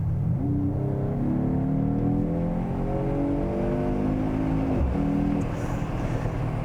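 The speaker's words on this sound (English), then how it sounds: "This is the same 3-liter turbocharged, electrified straight 6-cylinder engine." 2022 Mercedes-AMG GT 43 with a 3-liter turbocharged electrified straight-six engine revving loudly and steadily, its pitch rising through several gears in a continuous close-up roar with no voices.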